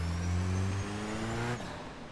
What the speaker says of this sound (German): Der Sound gefällt mir einfach vom Auto.